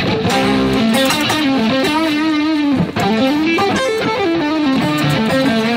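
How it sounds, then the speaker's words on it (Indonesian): An electric guitar on its neck pickup, run through distortion, plays a continuous bluesy lead line with thick, saturated sustain throughout. "Saya akan coba menggunakan distorsi."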